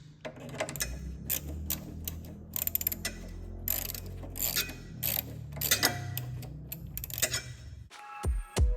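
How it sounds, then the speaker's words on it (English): A hand ratchet loosens 10 mm bolts near the air filter and carburetor of a small GX-series engine, giving rapid close clicking in irregular bursts with short gaps and a few metallic knocks near the end. "Now I'm just gonna take this, loosen those 10 millimeters."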